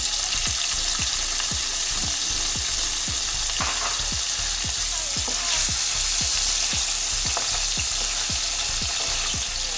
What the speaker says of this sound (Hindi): इसमें ऐड करेंगे हम पनीर के छोटे छोटे क्यूब हमने बना लिए हैं, इनको भी थोड़ा सा फ्राई कर लेते हैं।